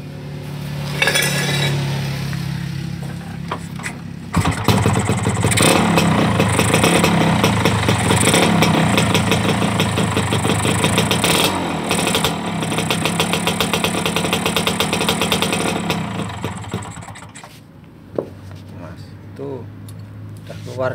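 A motorcycle engine starts and idles after an oil pump repair, running loud and steady for most of the stretch with metallic clinks, then cutting out near the end; people talk over it.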